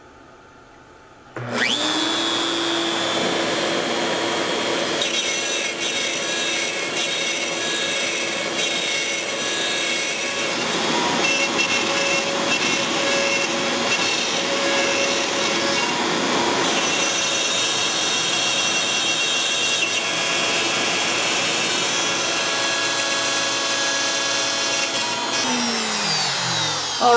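Robot CNC router starts abruptly and runs for a long stretch, a loud, close, high-pitched spindle whine with a shifting roar as it cuts, spinning down near the end.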